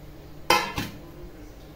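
Semolina going into ghee in a kadhai gives two sharp metallic clinks of utensil on pan, a loud hit followed by a softer one, then quiet.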